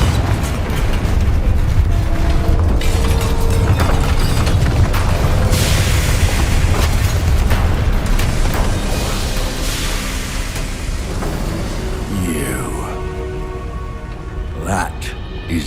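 A Confringo fire spell blasts in the Hogwarts Legacy video game: a dense, loud, booming rumble with crackling debris that runs continuously and fades slightly toward the end.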